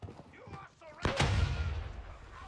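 A grenade blast in the shooter game Gray Zone Warfare, a single sharp, loud boom that rolls into a low rumbling tail, following a stretch of speech and quieter game noise.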